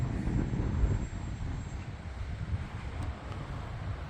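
Steady motor drone of a HobbyZone Aeroscout RC plane flying in gusty wind, heard at a distance beneath heavy wind buffeting on the microphone.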